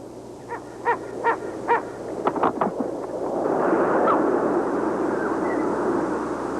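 A tawny eagle gives a quick series of harsh barking calls, five or six sharp notes over about two seconds, followed by a steady rushing wind-like noise.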